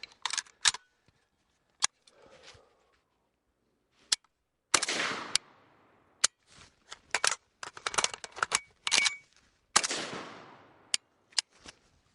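Rifle magazine being swapped in a reverse reload: a sequence of sharp metallic clicks and snaps, some sliding scrapes and clacks, close and crisp with short silences between bursts.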